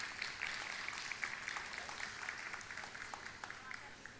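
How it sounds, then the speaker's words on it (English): Applause from an audience at a guest artist glassblowing demonstration, a steady crowd clapping at moderate level heard from a little distance, with talk mixed in beneath it. "let's give another big round of applause to him"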